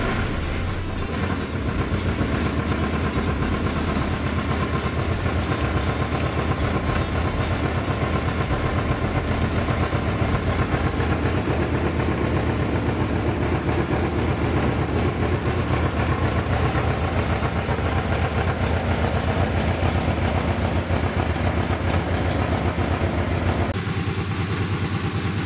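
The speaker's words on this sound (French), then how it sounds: "Un petit peu starter et puis ça repartit." A Suzuki GSX-F 1100 motorcycle engine runs steadily after a choke start on a cold day, a close, continuous rough idle with a pulsing beat that holds for the whole stretch, with no talk over it.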